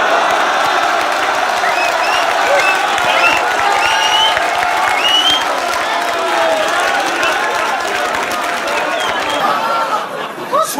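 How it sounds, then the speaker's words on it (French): A live rap battle audience applauds and cheers for a rapper in a loud, continuous roar of crowd noise mixed with chatter. It tapers slightly near the end. "vous pouvez l'applaudir"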